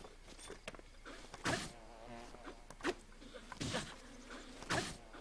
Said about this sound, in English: I don't want to die from bees.